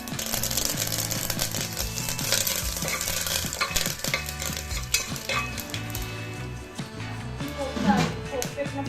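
Spices and curry leaves fry in hot oil in a pan, giving a dense, continuous sizzle with the scrape and clatter of stirring, while a voice talks over the cooking throughout.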